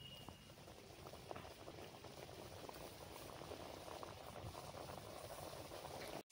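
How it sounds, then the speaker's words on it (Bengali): Khaja pastries frying in a pan of very hot oil, a dense, steady bubbling and sizzling hiss that continues without pause at moderate volume and cuts off abruptly at the very end. "তেল খুব ভালো করে গরম করে নিয়েছি। এবার খাজাগুলো দিয়ে দেবো।"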